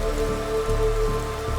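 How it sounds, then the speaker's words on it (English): Steady rain falling on a surface, an even, continuous patter with no voices, close and moderately loud throughout. "the sound of rain soothing his restless soul"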